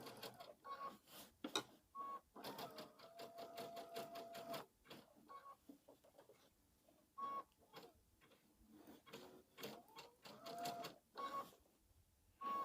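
A sewing machine stitches around letters on a spooky door hanger, running in fast bursts of rapid needle clatter with brief pauses between runs.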